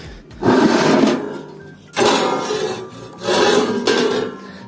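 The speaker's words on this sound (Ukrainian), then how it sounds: "Знову я це все починаю от шліфувати." Wheel discs being sanded by hand, three long rough rasping strokes with short pauses between, loud and close.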